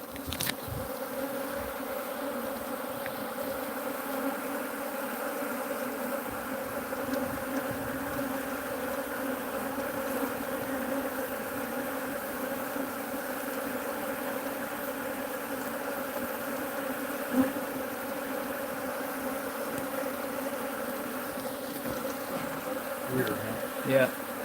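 Honeybees from a tiny hive drone in a steady, continuous buzz, close and even throughout, with no talk over it.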